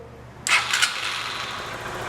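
A motorcycle or small engine cranks and catches after half a second of quiet during an electronic fuel injection workshop, with a sharp starting burst settling straight into a steady idle that runs to the end.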